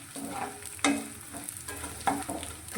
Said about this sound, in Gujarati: ગુણને આપણે ધીમા ગેસની ફ્લેમ પર સારી રીતે તળવાનો છે